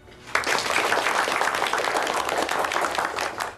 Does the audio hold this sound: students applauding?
yes